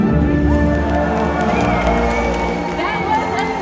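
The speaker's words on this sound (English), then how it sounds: "let's give him a great big cheer" Large stadium audience at an orca show cheering and shouting loudly and continuously, a dense roar of many voices sustained throughout with scattered whistles and calls.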